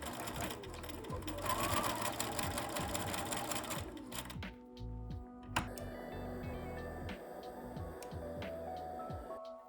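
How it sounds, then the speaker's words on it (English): A sewing machine stitches the short sides of a fabric tape together, running steadily with a dense mechanical whir and rapid needle ticking, pausing briefly before starting up again, close and continuous. "put the short sides on top of each other and sew them together with a seam of allowance of 1"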